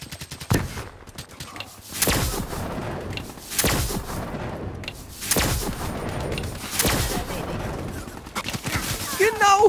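Gunfire in the video game Black Ops 3 during a multiplayer beta match, bursts of rapid shots and heavy booms repeating over nearly ten seconds, loud and close, with players talking.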